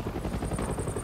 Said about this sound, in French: il y a un hélicoptère qui vient de planter là.